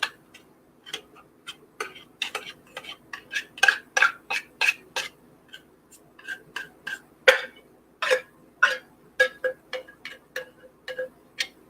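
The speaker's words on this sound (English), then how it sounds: "Spoon because some of this is stuck in the can." A spoon scrapes tuna out of a metal can, making a long run of sharp metallic clinks and scrapes in an uneven but steady rhythm. The sounds are close and clear, with no talking.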